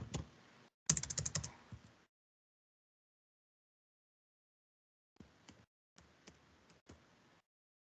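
An email address being typed on a computer keyboard, quiet quick bursts of key clicks separated by a few seconds of silence.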